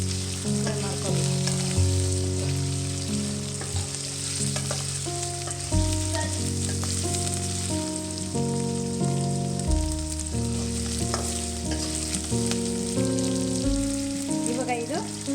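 Ivy gourd (tondekai) fries in oil in a pan with a steady, continuous sizzle, partly buried under loud background music and with occasional stirring.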